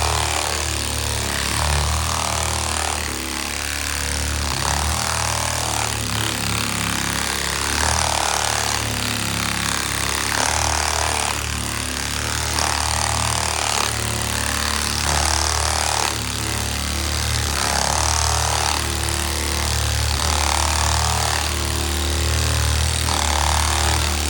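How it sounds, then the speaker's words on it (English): Power sander stripping two-part varnish from the wooden deck of a 1950 Chris Craft U22 boat, a continuous loud grinding drone with a regular pulsing rhythm as it is worked back and forth, close up with no talk. "So when I sand it, it's more or less like this."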